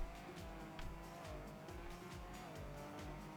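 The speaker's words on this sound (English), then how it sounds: "Oh, this is the rally car." A rally car drives steadily through a Trackmania course, its engine droning with pulsing throttle and gear changes and faint tire noise, and the car stays near throughout.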